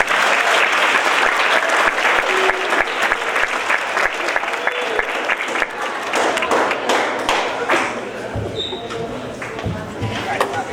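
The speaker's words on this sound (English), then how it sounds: "let's give a warm welcome round of applause to Coach Ferry for cross country." Enthusiastic applause from a crowd at an athletic award ceremony, dense clapping that continues strongly before gradually thinning out toward the end.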